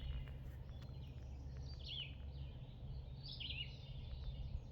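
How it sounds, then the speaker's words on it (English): Redstarts and little warblers sing faintly in a northern spring woodland, a few thin high phrases and chirps over a constant low rumble, with no voices. "There's a couple of red starts up here. Some little warblers, songbirds."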